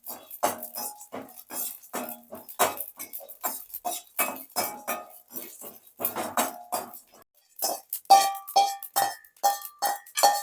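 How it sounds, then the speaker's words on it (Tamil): Cumin seeds dry-roasting in a pan for sukku malli coffee, crackling with a steady run of sharp, close clicks and pops, mixed with bright metallic clinks from stirring the pan, and no talking. "படபடன்னு பொரியிற சவுண்டு உங்களுக்கே தெரியும்"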